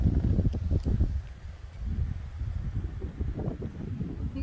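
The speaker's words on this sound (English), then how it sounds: "the tent is like swaying around in the wind" Blustery wind rumbles and buffets close by in uneven gusts around a swaying tent, with some rustling and flapping mixed into the low, churning roar.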